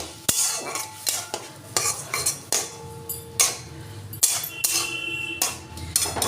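A utensil stirs semolina cooking with water in a pan for modak, a series of repeated scraping strokes in a steady rhythm, close and clear with no talk.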